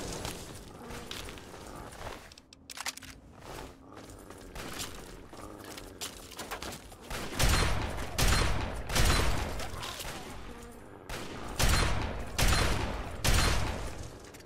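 A shotgun fires repeatedly in Fallout 3, sharp loud blasts arriving in irregular bursts with clattering combat noise between them, growing heavier and more frequent partway through.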